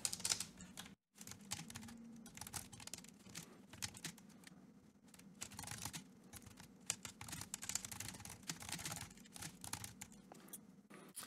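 Steady typing on a computer keyboard while writing code, with dense, irregular clicking keystrokes that run almost continuously for about eleven seconds, broken by one brief pause near the start.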